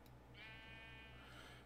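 A sheep bleats in the video game Diversity 2, a single drawn-out nasal call that sits over a steady low background hum.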